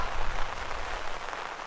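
Steady rain falls on a fishing trip at a Ganghwa Island canal during a windy, rainy day, making a constant dense hiss with no talking.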